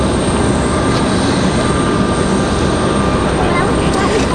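A United Airlines airliner passes at Raleigh-Durham International Airport, a loud, steady engine roar filling the whole stretch with no break, heard alone.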